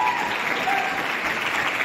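Sustained audience applause for three seniors at a gathering, dense and steady clapping from a crowd throughout, fairly loud and close with no pauses.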